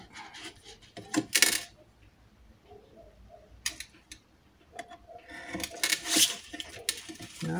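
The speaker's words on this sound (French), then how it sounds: "je reprends ma règle et mon cutter pour euh, couper" Ruler-guided craft knife slicing through paper during a scrapbooking mini-album project, heard as several short, crisp scraping and tapping bursts with quiet gaps between them, close and moderately soft.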